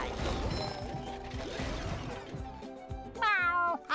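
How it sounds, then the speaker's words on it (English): Gary the snail meowing in the SpongeBob Battle for Bikini Bottom video game, a short cartoonish meow near the end that follows busy game music and clattering effects. "Meow. Hi, Gary."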